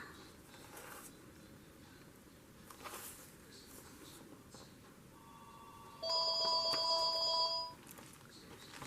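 A phone rings once with a steady electronic tone, fairly loud over a quiet room with soft background hiss.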